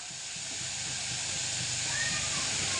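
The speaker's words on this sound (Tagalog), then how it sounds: "So lagyan ng tubig." Water poured into a cooking pot for preparing eel, a steady loud hissing gush close by that swells slightly as it continues.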